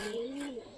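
A pigeon coos once in a soft, drawn-out call with a rising then falling pitch, fairly faint against a light background hiss near a loft where a pair of pigeons run about.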